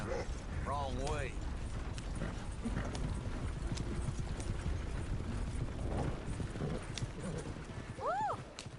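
Horse-drawn wagon in Red Dead Redemption clip-clopping along steadily, hooves and creaking wheel mechanisms under loud ambient game sound, with a horse whinny near the end and voices speaking.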